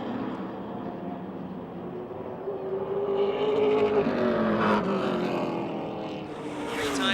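NASCAR Subway Super Late Model stock cars roar around Motordrome Speedway during a preliminary heat race, a loud sustained engine drone that swells and shifts pitch as the pack passes close by.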